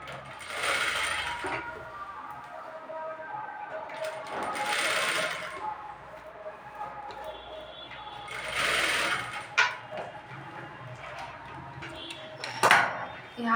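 A sewing machine runs in repeated short bursts while double-stitching a Patiala salwar, whirring steadily at close range with brief pauses and small clicks of fabric handling between runs.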